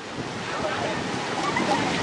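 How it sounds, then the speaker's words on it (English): Surf washes steadily onto a beach of dark grey, muddy sand on the east side of a Thai shoreline, a constant broadband wash mixed with wind buffeting the microphone and no clear breaks. "I am on the east side of the beach,"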